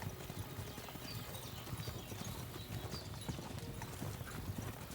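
A horse's hooves clip-clop in a steady walking rhythm in the video game Kingdom Come: Deliverance II, close and fairly loud over a bed of ambient game noise.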